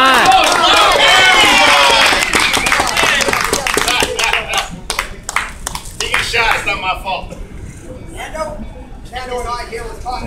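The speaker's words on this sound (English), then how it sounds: "Come on, big round of applause." A crowd claps loudly for a volunteer at a Knott's show; the dense clapping dominates the opening seconds and then thins into scattered claps under a performer's voice and audience chatter.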